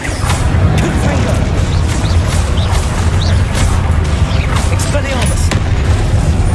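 Confringo blasting spells go off in Hogwarts Legacy combat as a steady run of loud, close booms and crackling impacts, densely packed over a constant low rumble with no pause.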